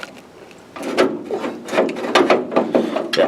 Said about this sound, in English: That's definitely the window crank